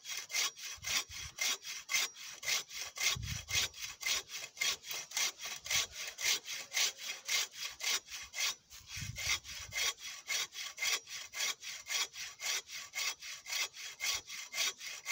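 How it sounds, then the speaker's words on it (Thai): Hand saw cutting through live wood while clearing an overgrown rice field, a steady, rhythmic back-and-forth rasp of strokes throughout, close and moderately loud with no talk. "ถ้าไม้ยังไม่ตายนี่เลื่อยง่ายมากครับ"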